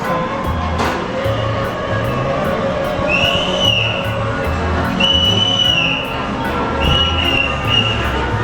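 A child blows a whistle in repeated short toots, several spaced bursts over a busy outdoor background with crowd and traffic noise in Puebla, Mexico.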